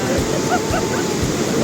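Rushing water at Huka Falls near Taupo roars as a loud, continuous broadband wash, with people talking faintly over it.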